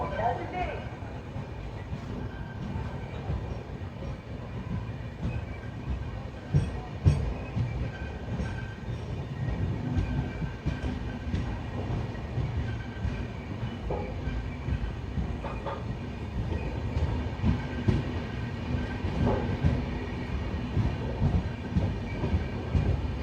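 A superfast express train pulls away from Tadepalligudem station, heard from inside the last coach. The steady rumble and rhythmic wheel clatter build as it gathers speed, with occasional squeals and a few voices in the background.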